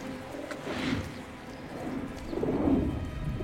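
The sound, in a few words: pigeons cooing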